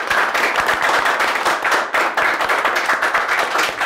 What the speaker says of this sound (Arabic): وبكل محبة وبكل سرور تصفيقة كبيرة على زميلكم الفتوري